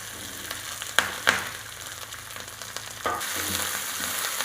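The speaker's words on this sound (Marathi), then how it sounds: "आता आपण फोडणीमध्ये मिरच्याचे तुकडे टाकून घेऊ।" Green chilli pieces are dropped into a hot tempering of mustard seeds, cumin and curry leaves for a sweet-sour-spicy panchamrut. A steady oil sizzle gets a fresh, louder burst as they go in, with a few sharp crackles.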